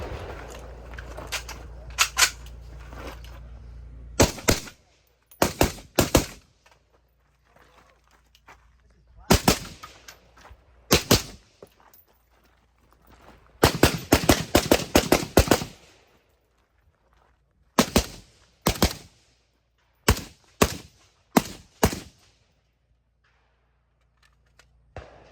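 Gunfire rings out on a shoot house stage at the AK Masters shooting match: loud, close shots come in quick rapid strings and separate pairs, with short pauses between bursts over about twenty-five seconds.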